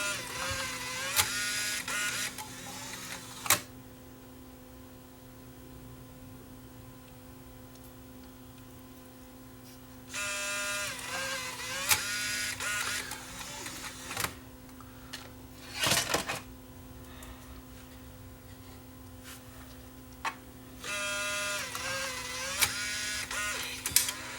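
A Bose CD changer mechanism whirs and clicks while loading a disc. Several separate bursts of mechanical grinding and ticking are separated by quieter stretches, with sharp clicks between them.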